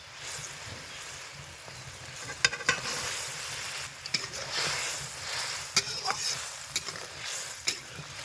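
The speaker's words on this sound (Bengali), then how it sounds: "এবার দিয়ে দেবো এঁচড়ের কোপ্তাগুলো" Jackfruit koftas simmer in a boiling gravy, a faint bubbling sizzle broken by sharp clinks and scrapes of a stirring utensil, with no talking.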